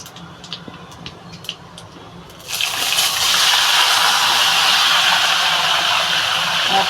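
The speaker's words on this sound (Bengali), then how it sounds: "আমি এবার কচু শাকটা ঢেলে দেবো" Taro leaves are poured into a hot pan for a Bengali hilsa fish head dish, setting off a sudden loud, steady rushing sizzle after a quieter start with light clinks.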